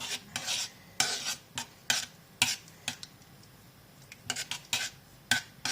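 A spoon scrapes and knocks around a pan of thick oat and peanut butter porridge, giving repeated sharp clinks and soft scraping strokes at an uneven rhythm, close and alone.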